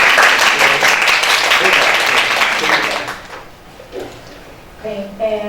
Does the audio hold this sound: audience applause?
yes